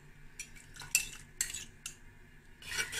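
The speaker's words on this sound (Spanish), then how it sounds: "Y removemos." A spoon stirs miso into hot ramen broth in a pot, clinking and scraping against the metal in several quick bursts with short gaps between them, fairly close and clear, with no talking.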